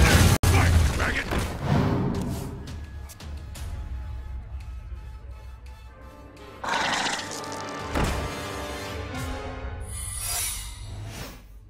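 A cavalry horse in the Hearthstone video game neighs loudly at the start, followed by clip-clop and mechanical game effects, with voiced character lines and battle booms layered through the rest.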